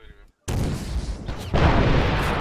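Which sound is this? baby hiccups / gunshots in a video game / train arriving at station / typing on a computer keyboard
gunshots in a video game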